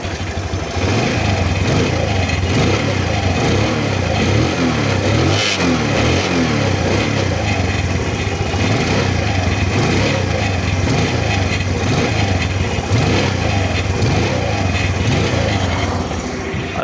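A Bajaj Calibre 115 motorcycle engine runs steadily at idle nearby, a loud, continuous putter with an even rhythmic chug and no variation in pace.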